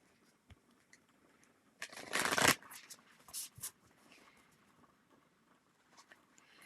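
A deck of Spirit Oracle cards is shuffled in one loud, riffling burst at close range, then a few softer clicks and taps of the cards, with quiet in between.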